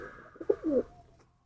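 A pigeon gives a short, soft coo in a pigeon-keeping setting, one brief throaty call close by against quiet background.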